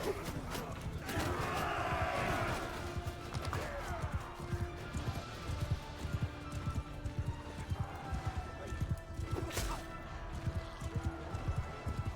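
Horse hooves clip-clop in a rapid, running rhythm in a medieval battle video game, with scattered impacts and crashes around them, moderately loud and fairly close.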